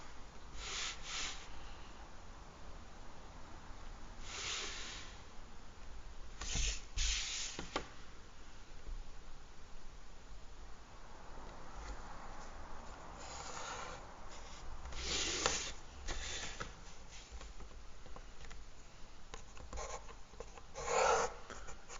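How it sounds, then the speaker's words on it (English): A pencil scratches lines on paper in short, faint bursts, with several separate strokes spread across a quiet background. "I'm going to draw two 45 degree lines from line P3"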